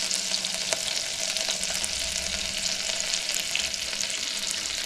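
Vegetables sauté in a pan for quick ramen with pork shoulder chashu, giving a constant, dense sizzle with faint scattered crackles and occasional light utensil taps, close and uninterrupted.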